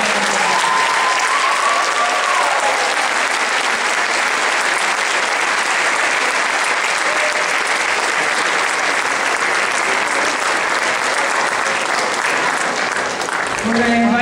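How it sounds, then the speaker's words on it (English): A large audience at a seniors' recognition ceremony applauds the graduating seniors and their families, a dense, loud, sustained wash of clapping that holds steady for the whole stretch. "please give a round of applause, not just to our seniors, but to their parents and families"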